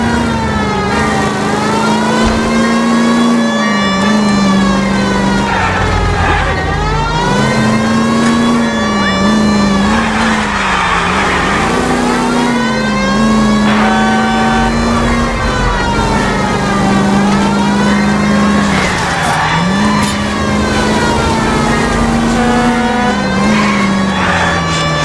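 Engine roars and revs continuously during a car chase in the video game L.A. Noire, loud and sustained with rising and falling pitch as the car accelerates, while a siren-like wail runs alongside it throughout.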